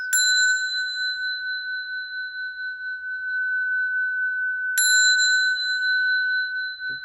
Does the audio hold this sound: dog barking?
no